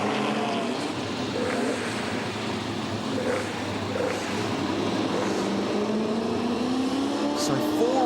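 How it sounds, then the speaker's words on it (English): A BMW E30 race car roars past with a rising whine, loud and steady, while a commentator talks over it. "Here's car 28, Scott Sampson."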